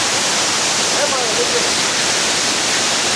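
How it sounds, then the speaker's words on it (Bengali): Water pouring down a rocky hillside waterfall, a loud dense unbroken roar filling the whole space from close by, with a voice faintly audible beneath it. "ওই উপর থেকে জল পড়ছে"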